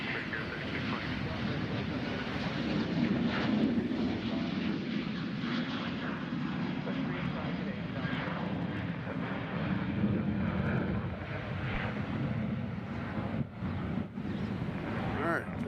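A departing airliner at Nashville International Airport rumbles as a steady, moderately distant jet roar for the whole stretch, with wind noise mixed in and a voice talking faintly underneath.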